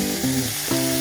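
Garlic sizzles in a frying pan in a short burst of steady hissing, heard beneath background music.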